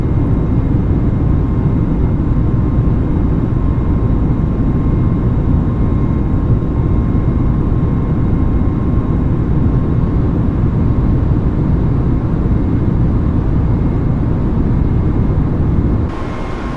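Air Asia A320neo engines roaring steadily during the climb after takeoff, a loud, constant broadband rumble heard from inside the cabin throughout, with a faint steady tone above it.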